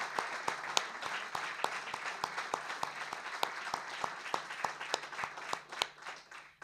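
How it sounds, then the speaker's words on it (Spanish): At a book presentation about the Dique Ing. Carlos Michaud Los Quiroga, an audience applauds in memory of an engineer, a steady round of many hands with a few sharper claps cutting through, fading near the end. "demos un aplauso a la memoria del ingeniero Urtubey"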